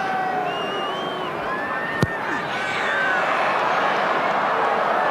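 Large rugby crowd at Ellis Park stadium during a Super 12 final between Transvaal and Queensland Reds, a steady roar of shouting and cheering with whistles and calls over it, swelling slightly toward the end.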